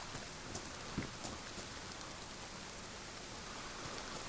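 Pouring rain in the video game DayZ makes a constant broadband hiss, with a few louder drops early on, steady and unbroken by speech.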